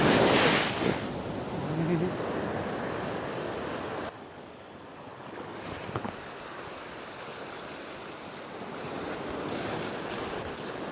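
Waves wash and surge against a rocky shore during winter rock fishing, a broad continuous roar with buffeting wind noise on the microphone and a couple of swells building and receding.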